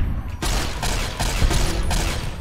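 Several loud gunshots in Fallout New Vegas fire in quick, irregular bursts during combat. They are close and dense, with a brief lull before the volley begins.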